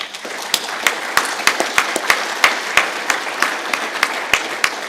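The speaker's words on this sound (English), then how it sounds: "First of all, a big clap for them." Small audience claps for event sponsors, with individual sharp hand claps standing out in an irregular, moderately close patter over a few seconds.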